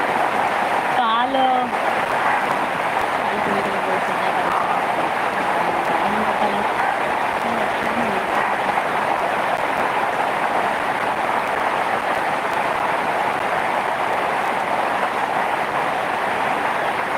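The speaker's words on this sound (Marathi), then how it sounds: "आज भरपूर मुंबईला पाऊस आला" Steady hiss of heavy rain pouring down in Mumbai, continuous throughout, with a few brief voices in the first seconds.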